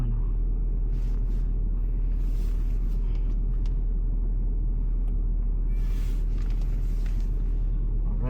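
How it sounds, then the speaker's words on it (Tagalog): A car heater runs with the engine idling, a loud steady low rumble and airflow drone filling the interior, with faint occasional sounds of movement. "Paandarin lang natin yung heater sandali"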